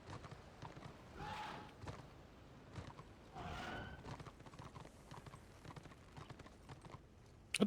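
Horse hooves clip-clopping in the online game Return of Reckoning, a steady, fairly quiet rhythm of hoofbeats with a couple of brief snorting or whinnying sounds over a soft background.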